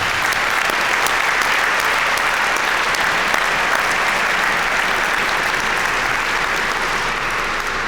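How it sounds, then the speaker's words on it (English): Sustained audience applause at the 2019 Deming Cup awards ceremony, a thick, even roar of many hands clapping that holds at the same level throughout with no pauses. "Let's please lead me in giving them another round of applause."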